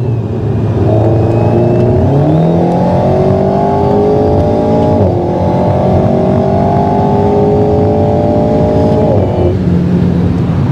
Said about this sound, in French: On a l'impression d'avoir vraiment un gros turbo là qui pousse. Ah, le sifflement est incroyable.